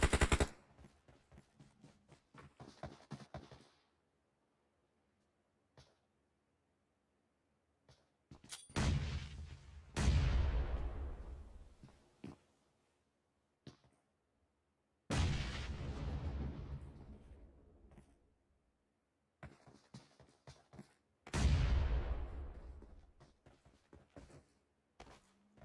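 Gunfire and grenade blasts in the video game PUBG Mobile: bursts of rapid shots broken by silences, with several heavy booming explosions that ring out and decay over a couple of seconds each.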